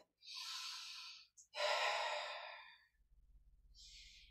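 During a Pilates strength exercise, a person takes loud, close breaths, with a long breath out and a short catch before it, followed by soft rhythmic thumping.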